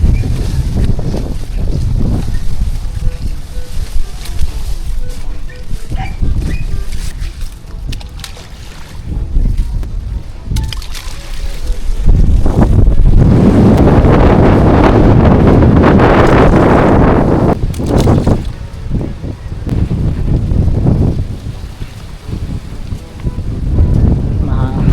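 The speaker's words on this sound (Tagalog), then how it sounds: "Lakas ng hangin." Strong wind buffets the microphone in loud, rumbling gusts near the water in Quezon, rising and falling, with brief rustling and a few faint voices in between.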